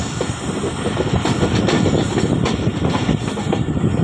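Jaffar Express passenger train rolling on rails at Gujar Khan station, a loud continuous rumble of wheels and carriages with rhythmic clicking and faint hiss, close by and steady throughout.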